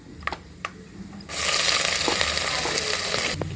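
A brief quiet moment with a few light knocks, then a sudden loud hiss and crackle as ginger pieces fry in hot oil with tempering spices, continuing steadily.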